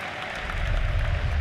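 A crowd at a Dota 2 tournament final claps and cheers, a dense wash of applause that builds and grows louder toward the end, with no voices standing out.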